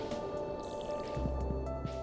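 Crops being watered with a watering can in the farming game Stardew Valley: a soft splashing, dripping pour that starts partway through and lasts about a second, over steady game music.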